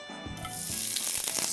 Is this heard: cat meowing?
no